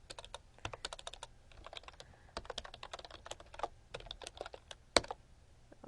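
Rapid, uneven typing on a computer keyboard during coding work, a steady stream of close, light key clicks with one sharper tap near the end, with no talking.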